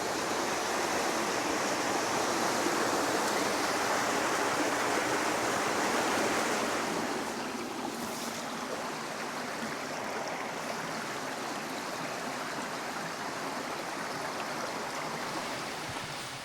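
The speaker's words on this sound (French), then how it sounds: "Là avec le ruisseau qui a gonflé à cause des pluies," A canyon stream swollen by rain rushes loudly and steadily through the Canyon des Gueulards in the Drôme. The rushing water eases slightly partway through and keeps flowing without any voices.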